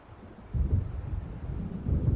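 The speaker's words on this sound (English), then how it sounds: "It seems there's a storm coming." Low, muffled rumble of thunder from an approaching storm in the video game Alan Wake, swelling in after a quiet start and rolling on steadily, distant and heavy, with no voices.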